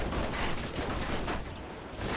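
Turret gunfire in the video game Alpha Protocol, a dense, continuous burst of rapid shots rolling loud and steady for about two seconds.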